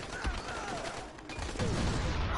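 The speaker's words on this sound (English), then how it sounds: "That fucking SMG kills in one hit!" Continuous loud SMG fire in the zombie game Dying Light, a dense unbroken rattle of rapid shots close up, with little pause throughout.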